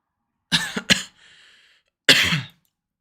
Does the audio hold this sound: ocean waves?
no